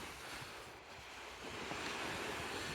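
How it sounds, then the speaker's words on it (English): Surf breaking right at the edge of a sandy, featureless beach, a steady close wash of waves with wind blowing across the microphone, swelling slightly louder toward the end. "The waves are breaking right at the shore"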